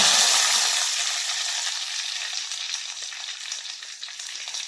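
Mustard seeds, fenugreek and curry leaves fry in hot oil, a loud, close hiss that bursts up at first and then slowly settles into a softer, crackling sizzle.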